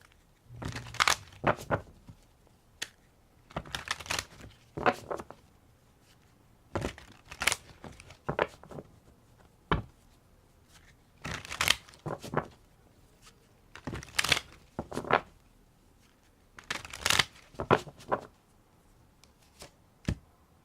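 Tarot cards are shuffled in repeated bursts, each a quick riffling flutter of a few seconds, separated by short pauses, close and fairly soft.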